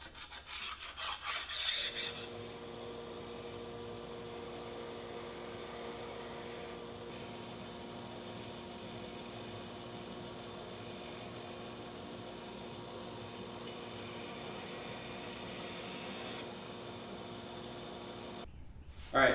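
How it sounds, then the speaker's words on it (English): Clay being scraped off a katana blade and the steel ground, heard as a steady, continuous abrasive rasp after a brief louder rubbing at the start, ending abruptly. "I would have to scrape off the clay and grind it a little bit."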